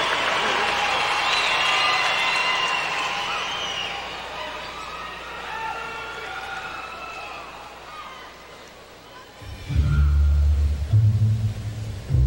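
A large arena crowd at the 2002 Salt Lake City Winter Olympics cheers and applauds a figure skater before his men's short program, a broad sustained roar that eases, then swells again into louder, deep rumbling noise near the end.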